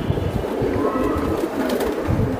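Pigeons coo at a bustling pigeon sale, with silver-barred birds among them; low, continuous cooing sits under a busy, steady background of crowd noise.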